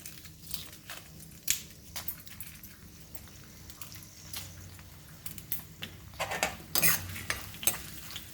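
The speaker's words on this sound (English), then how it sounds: "Now we will add our chilies also and we will fry in this." Chilies frying in oil in a pan for lemon rice, a steady soft sizzle broken by repeated clinks and scrapes of a spoon stirring against the metal, close and moderately quiet.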